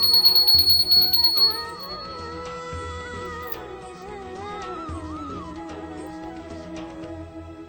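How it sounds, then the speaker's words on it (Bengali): A small hand bell rings brightly at the start during an evening Gopal worship service, its high shimmering tone lingering over a soft melodic background. "এবার আমি সোনার কাছে ঘন্টাটা বাজিয়ে দিচ্ছি"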